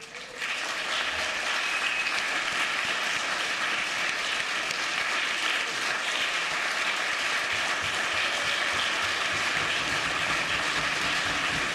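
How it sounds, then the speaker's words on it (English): Sustained applause fills a legislative House chamber, starting abruptly and holding steady and loud for the whole stretch, dense and continuous with no talking over it. "Thank you for that applause"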